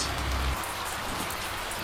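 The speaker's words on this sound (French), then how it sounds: "Il pleut beaucoup trop pour un jour de tournage." Heavy rain pours down steadily on a film set's first shooting day, a dense, loud hiss of drops hitting surfaces with a brief low thump near the start.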